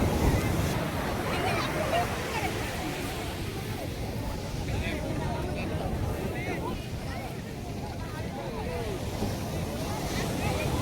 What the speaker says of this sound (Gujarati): દરિયાના મોજા